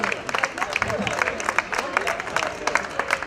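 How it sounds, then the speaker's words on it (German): Crowd applause at a summer festival in Cologne, with scattered clapping and cheering, a steady mid-level wash of hands that rises and falls over a few seconds. "Und das ist euer Applaus!"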